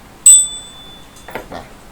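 A lucky bell rung for good fortune gives one bright, clear ding that rings out and fades within half a second, followed by a few faint soft knocks.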